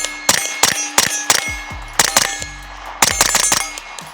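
A rifle built on a Nexus Evo aluminum lower receiver with a bearing delay fires about a dozen sharp, loud cracks in quick, uneven bursts, each shot ringing briefly with a metallic clang.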